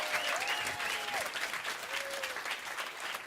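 An audience gives a sustained round of applause, a dense wash of many hands clapping at steady volume, with a few voices rising briefly above it.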